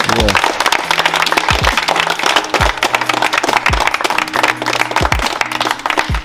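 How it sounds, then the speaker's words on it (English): A crowd at a Christmas donation event claps and applauds loudly and continuously, with music and voices mixed underneath throughout. "Give my donors a round of applause"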